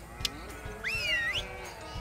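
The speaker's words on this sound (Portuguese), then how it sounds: "Vou alimentar aqui agora os meus gatinhos." Pet cats in the Hay Day farming game give a high, sliding meow lasting about half a second, clear and close, with a few soft game clicks and taps before and after it.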